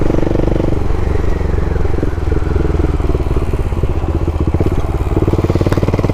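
A large single-cylinder motorcycle with Michelin Pilot Power tires is ridden in second gear, its loud, steady thumping exhaust pulsing continuously and close by, with a faint scatter of clatter over the engine beat.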